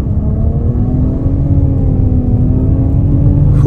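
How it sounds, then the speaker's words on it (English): A 2023 Nissan Rogue Platinum AWD pulls away hard from a stop in sport mode, a steady loud engine drone and road rumble building from inside the cabin with no talking. "We'll try acceleration out off the line in sport mode."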